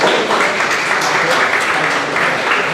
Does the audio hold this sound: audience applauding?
yes